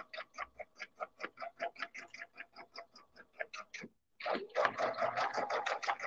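A sewing machine stitches Minky fabric layered with batting around the curved edge of a heart-shaped pillow, giving a steady run of quick rhythmic pulses, a brief pause, then a denser, faster burst close to the microphone.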